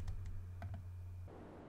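A computer mouse clicks a few times, sharp and close, on a quiet desk.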